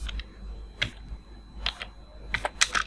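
Scattered keystrokes on a computer keyboard as an AutoCAD command is typed, a few soft clicks spaced apart and ending in a quick cluster of taps, close and fairly quiet.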